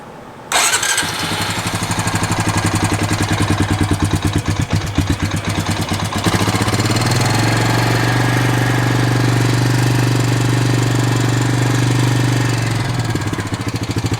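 An engine cranks and starts on battery power after choking, then settles into a loud, steady idle with a squealing tone throughout and no voices.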